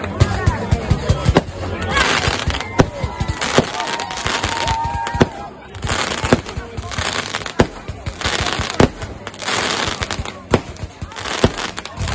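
Fireworks finale at an outdoor event: dense volleys of sharp cracks and booming bursts in rapid, irregular succession, with voices of the crowd audible beneath.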